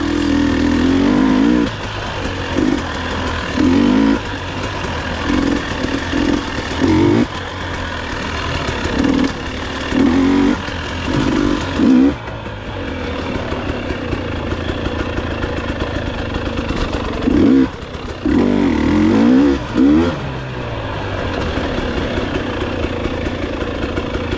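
A GasGas EC300 two-stroke enduro motorcycle runs near a house on a road and small trail, its engine pulsing in short loud bursts of revving between steadier idling over about twenty-four seconds, with no talk.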